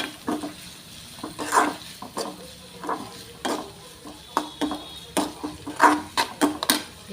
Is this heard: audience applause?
no